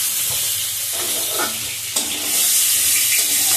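Egg fries with dried red chilli and panch phoron in a pan, a loud, close, steady sizzling hiss that swells toward the end, with a brief spatula scrape partway through.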